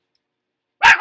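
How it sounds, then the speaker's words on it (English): Dogs barking in a home, a single sharp loud bark bursting out abruptly at the end after near silence. "They are barking at him."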